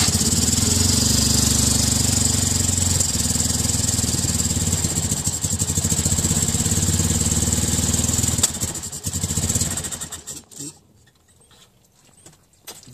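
The small engine of a 1989 Fiat 126p runs loud and rough, then sputters and falters when revved, its sound breaking up and dying away near the end.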